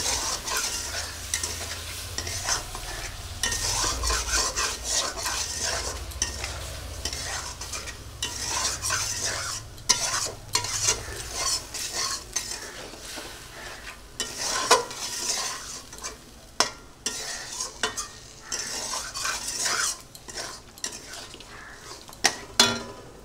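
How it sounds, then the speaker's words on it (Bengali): Spice paste and potatoes sizzle in hot oil in a pan while a utensil scrapes and stirs in irregular strokes, metal clinks and scraping over a steady frying hiss for Bengali tilapia and potato curry. "মশলাটা একটু কষাই করে নেব আলুর সঙ্গে।"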